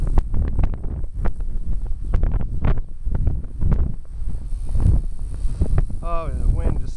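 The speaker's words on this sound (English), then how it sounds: "the wind just comes and goes, and it's really strong again" Strong wind buffets the microphone in loud, continuous rumbling gusts while someone talks over it throughout.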